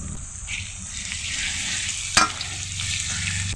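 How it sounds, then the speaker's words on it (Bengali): Chopped tomato sautéing in hot oil with onion and garlic for a black Kadaknath chicken curry: steady close sizzling and frying with a sharp clink of stirring midway, no talking. "এখানে দেবো একটা টমেটো টমেটোগুলোকে আগের থেকে কিন্তু কুচো করে নিয়েছি"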